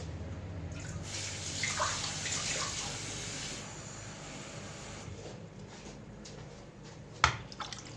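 Water poured from a glass into a pan of tomato paste for Turkish meatballs, a steady broadband pouring wash for a few seconds that fades to a quieter background, with a sharp clink near the end.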